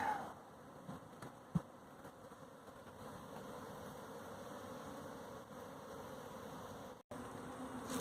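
Honeybees buzz around a caged queen in a hive box, a steady, fairly faint droning hum that continues throughout with a brief louder thump near the start.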